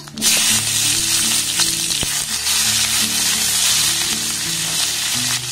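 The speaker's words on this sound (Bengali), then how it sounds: "ক্যাপসিকামটাকে একটু ভালোভাবে নাড়াচাড়া করে ভেজে নেব" Capsicum frying in hot oil with ginger, for a vegetarian restaurant-style chilli paneer, gives a loud steady sizzle with stirring scrapes running throughout, no voices.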